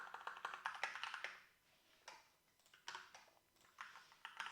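Rapid keystrokes on a computer keyboard while writing code, a quiet, close run of clicky taps in short bursts with brief pauses between them.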